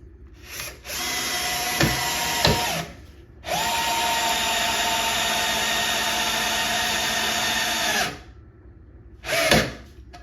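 A Bosch 12V cordless driver on speed 1 whirs through two bursts while driving a metric screw, a short run then a longer steady drone with a brief final spin, close and loud with no talk.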